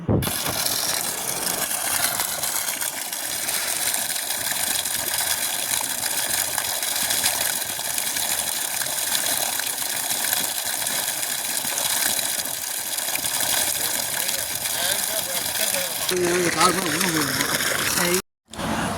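A 2 HP solar borewell pump with a 1.5-inch delivery pipe on a 250-foot farm borewell gushes water under strong pressure in a steady, continuous rush, with a mechanical whir beneath and a brief cut near the end.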